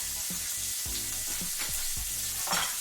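Cabbage and smoked sausage fry in a pan, a dense, steady sizzle close by, with a few low scraping stirs of the spatula through it and a louder scrape near the end.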